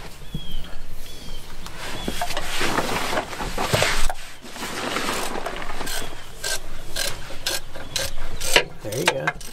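A ratchet wrench clicks in rapid bursts while working on a broken semi truck, close and fairly loud, with pauses, some scraping and rubbing between runs.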